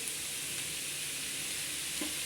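Green beans cook in a pan with a continuous close hiss and sizzle and one soft clink near the end.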